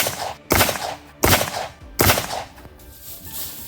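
Three sharp, loud M855A1 rifle shots crack at roughly even intervals against a Level III+ armor plate at an outdoor range, each with a ringing tail, followed by a quieter faint pop.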